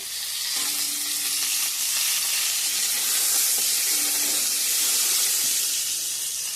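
Steady, dense sizzling of pointed gourd frying in hot oil, a continuous crackling hiss with no voices.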